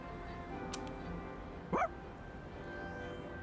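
A single short dog bark or yip in the video game Persona 3 Reload, brief and fairly clear against a steady quiet background hum.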